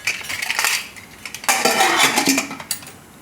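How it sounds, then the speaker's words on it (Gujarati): A metal pressure cooker lid is fitted and closed with a sequence of close, bright clanks and scraping clinks of metal on metal, alone and fairly loud. "હવે કુકરનું ઢાંકણું બંધ કરી દઈશું"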